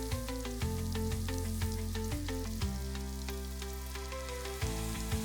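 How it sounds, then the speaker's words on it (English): Cumin seeds sizzle in hot oil while cooking a Kashmiri mutton rogan josh, a steady close frying hiss running under a sustained tonal background with no speech. "Now add 1 teaspoon cumin seeds,"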